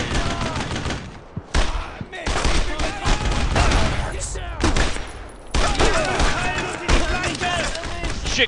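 Rapid bursts of automatic and rifle gunfire in a World War II firefight from the game Brothers in Arms, loud and continuous with brief gaps, under shouted squad commands.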